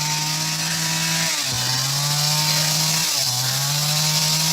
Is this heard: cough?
no